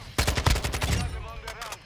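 Gunfire in the video game Modern Warfare 2: a quick burst of loud, close shots in the first second, followed by softer lingering reports and echoing game effects.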